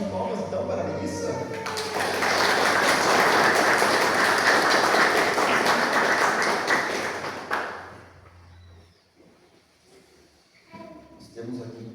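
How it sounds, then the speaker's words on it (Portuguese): After a voice speaks, a church congregation breaks into loud, dense applause for a new member. The clapping lasts about six seconds, then fades out, and talking resumes quietly afterward. "Uma salva de palmas então para a Melissa."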